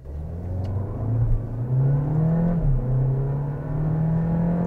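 A SEAT Tarraco launching hard from a standstill in a 0-100 km/h run, its engine note rising steadily and loudly as revs climb, with a brief dip at a gear change before pulling on again, no talk over it.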